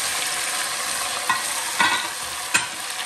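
Turmeric, garlic, ginger and tomato sizzle steadily in a pan for chole, a dense continuous hiss broken by a few brief stirring scrapes, close and alone with no talk.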